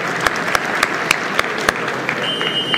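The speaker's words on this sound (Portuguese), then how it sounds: "Uma salva de palmas, Tarcísio está em terceiro." An audience applauds during a live stream, heard as a loud, evenly paced run of about seven distinct claps over a hissy wash, followed near the end by a thin, sustained tone.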